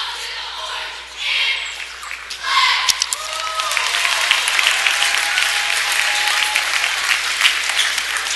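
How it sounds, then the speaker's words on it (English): Bulldog cheerleaders perform a pregame cheer before tip-off at a high school basketball game against Civic Memorial, with crowd applause and sharp squeaks and chants filling a loud, busy gym throughout. "Bulldog cheerleaders do their pregame cheer"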